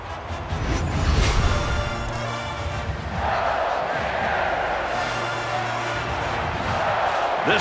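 Stadium crowd in the NCAA 14 college football video game, Miami at Florida, roars loudly and continuously, swelling at the start and holding a dense cheering wash throughout.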